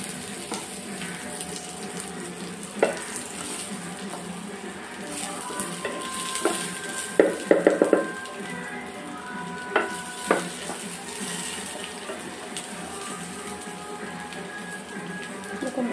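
Potatoes frying in a pan, a steady close sizzle running throughout with a few brief clinks and stirring knocks from a utensil, mostly alone with no talk.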